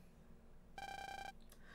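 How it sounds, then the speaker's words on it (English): Phone ringing in the MegaMan Star Force video game: a short, steady electronic ring tone, a bright pulsing chime lasting about half a second over a quiet game background. "I'm getting a phone call."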